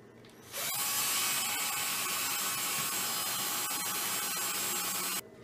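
A power drill countersinking screws into a wooden table runs loud and steady for about five seconds, starting abruptly and cutting off just as sharply, with a high whine over a gritty grinding texture.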